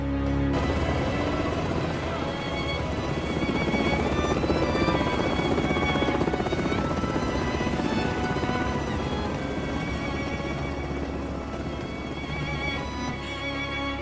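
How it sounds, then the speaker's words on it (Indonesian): A helicopter thrums steadily overhead, its dense rotor roar filling the air continuously without pause. "Saat helikopter itu melintasi kamp pengungsi yang mereka tinggalkan"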